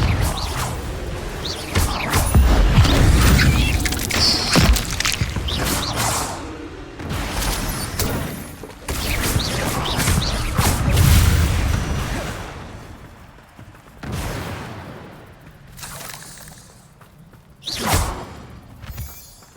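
Casting of the Confringo spell in Hogwarts Legacy brings fiery blasts, whooshes and crashing impacts that come in repeated bursts over a loud game soundscape, with brief quieter gaps between spells.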